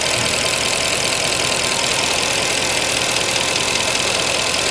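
A Mercedes C63 engine idles steadily while warming up, a constant mechanical drone with a fine, rapid ticking from the valve lifters running through it, close and continuous with no talking.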